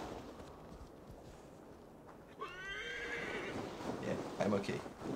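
A horse in the video game Assassin's Creed Valhalla gives a clear, ringing whinny midway, followed by clip-clopping hooves that grow a little louder, over a low outdoor ambience.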